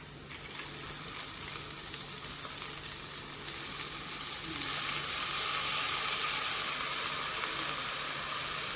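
Green mung beans tip into hot spiced oil and fry with a steady, loud, close sizzle and hiss that carries on throughout, with no talking.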